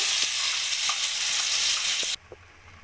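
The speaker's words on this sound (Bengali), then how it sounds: "আমি যে মিক্সিতে পেস্ট করে রেখে দিয়েছিলাম সেটা আমি কড়াইতে এবার দিয়ে দেবো" A ground spice paste sizzles loudly in a hot wok of tempering for dhaba-style matar paneer, a dense close hiss with faint stirring that cuts off sharply near the end, leaving only a quiet background.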